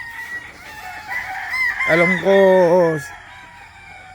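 Rooster on a chicken breeding farm crowing once, a loud harmonic call lasting about a second, preceded by softer clucks and other birds, with a brief spoken phrase nearby.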